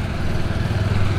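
A hit-and-miss engine runs at an old-time tractor show with a loud, close, steady low chugging throb across the whole short stretch.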